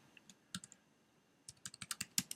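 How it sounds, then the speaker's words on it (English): Fingers type on an iClever keyboard: a few scattered key clicks, a short pause, then a quick, close run of crisp keystrokes. "we're going to type in"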